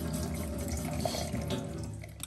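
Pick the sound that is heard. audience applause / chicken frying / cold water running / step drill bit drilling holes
cold water running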